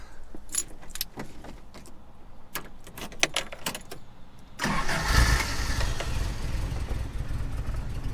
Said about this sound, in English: Lovely little rumble from the cammed 4-cylinder.